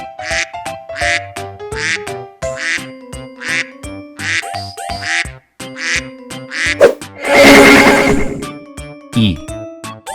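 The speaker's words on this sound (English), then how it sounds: "D for duck" A duck quacks over and over in short, nasal bursts over a bouncy musical backing, with a louder, noisier burst near the end.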